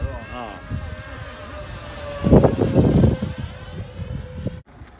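A remote control airplane buzzes as it flies in to land, a thin whining motor tone that swells louder midway and then drops off, with voices talking over it.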